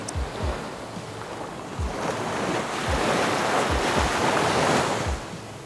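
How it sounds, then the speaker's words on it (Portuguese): Sea waves over a beach, added as a sound effect to drone footage: a steady, full wash of surf with rising and falling swells and wind-like rumble, continuous and fairly loud. "se eu estiver voando o drone em uma praia, eu gosto de botar o barulho do mar"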